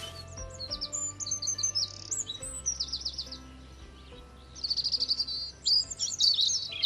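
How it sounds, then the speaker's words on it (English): Birds chirp and trill in repeated bursts outdoors, bright calls coming and going over a low steady hum. "You can hear the birds singing"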